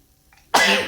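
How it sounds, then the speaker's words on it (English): A single sudden sneeze bursts out close and loud after near silence, ending abruptly with a short breathy tail. "Oh, my sneeze."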